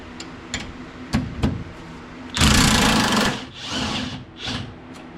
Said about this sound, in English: I should be able to impact the rest of it off